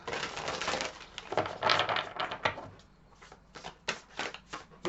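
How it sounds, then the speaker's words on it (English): A brand-new, stiff deck of playing cards is shuffled, giving rough riffling and papery crackling bursts followed by several sharp separate snaps and flicks, close and fairly loud. "these cards are very difficult to shuffle because they're still new"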